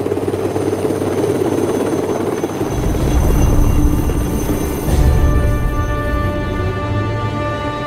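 A helicopter's rotor and engine drone loudly and steadily, nearby and alone, with a pulsing thump that swells in two surges partway through.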